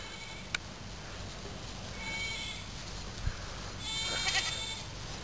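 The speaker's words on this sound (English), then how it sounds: "Here's all the goats again." Goats on a farm bleat faintly from a distance, with a few scattered calls over steady outdoor background noise.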